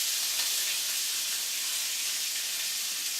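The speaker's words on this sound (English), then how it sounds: "Get a nice sizzle on that." A steady, bright hiss of chicken sizzling in a hot pan, constant and fairly close, with no voices.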